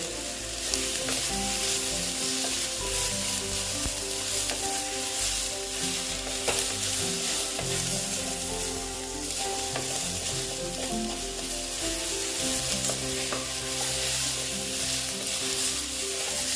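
Green chillies sizzle in a pan with potato and eggplant for a small tengra fish curry, continuous loud frying hiss with frequent stirring scrapes and clatter running through the whole stretch.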